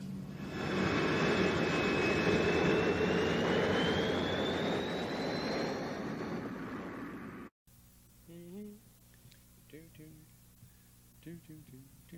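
An aeroplane engine drones loudly and steadily for about seven seconds as the plane flies overhead, a rising whine riding on the roar, then it cuts off abruptly and a voice speaks over quiet background.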